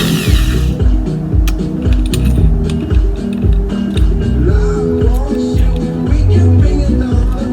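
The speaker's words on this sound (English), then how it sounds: "New drill." A power tool whirs and ratchets close up in short repeated bursts, with clicking mechanical noise throughout and no voices.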